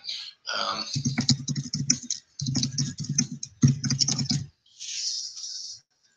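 Keystrokes clatter on a computer keyboard while text is entered in Google Docs, arriving in three quick bursts of close, rapid tapping separated by brief pauses, with a soft hiss at the start and end.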